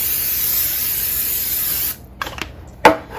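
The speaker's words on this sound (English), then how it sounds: "Spray it really well." Cooking spray hisses onto a well-used cookie sheet in one loud, continuous burst lasting almost two seconds, followed by a few soft clicks and taps.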